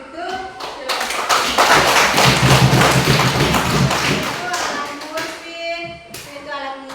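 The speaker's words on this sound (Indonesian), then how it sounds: "Beri aplaus untuk kelompok" A classroom of students applauds for a group that has just finished presenting, with several seconds of dense, steady clapping at moderate loudness that swells and then tapers off, while voices talk over it.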